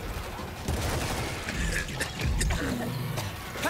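Gunfire in World War Z on a cruise ship level in Japan: a loud, steady barrage of rapid shots and bursts, with shouted voices mixed in throughout.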